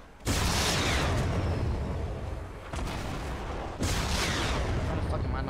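Explosive blasts from rocket fire in the Fortnite Battle Royale video game, two heavy booming bursts that roll into sustained rumbling, loud and close, with someone talking over the noise.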